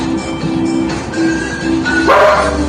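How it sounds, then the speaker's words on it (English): A dog barking amid a television playing in a home, short yips and whimpery barks over the steady hum and chatter of the TV, fairly loud and close. "Dog barks."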